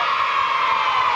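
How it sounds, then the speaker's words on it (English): Applause and cheering from a crowd at a children's school basketball competition between Pencoed and Holyhead, a dense, steady wash of clapping and shouts held evenly throughout. "Let's give a big round of applause"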